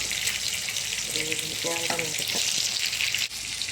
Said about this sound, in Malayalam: ചോറൊന്ന് ഇളക്കി കൊടുക്കാം